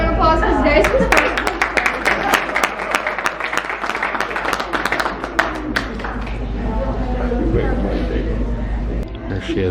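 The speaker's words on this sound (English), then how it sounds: "can we give him a round of applause for today's response?" A studio audience breaks into sustained applause and clapping that carries on for nearly ten seconds at a steady, full level, with a low hum running underneath.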